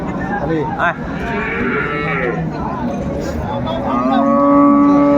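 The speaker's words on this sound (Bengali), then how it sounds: "গাভী বাছুর আমরা দেখছিলাম এখানে" Sahiwal, Sindhi and local-breed dairy cows with calves at a village cattle market, with several loud, drawn-out moos, one nearby bellow swelling toward the end, over low background chatter.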